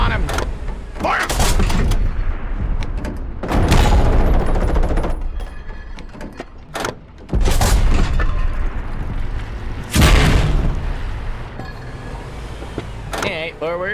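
Tank cannon fire in the video game World of Tanks booms loudly several times, each heavy blast followed by a rumbling decay, with someone talking between the shots.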